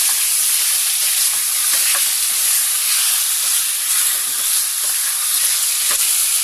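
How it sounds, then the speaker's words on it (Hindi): Ginger-garlic paste fries with chicken in oil for palak murg, a loud, steady, close sizzle with faint stirring scrapes and nobody talking. "इसके बाद में हम डालेंगे जिंजर गार्लिक पेस्ट डाल देंगे इसमें और इसे भी अच्छे से भून लेंगे"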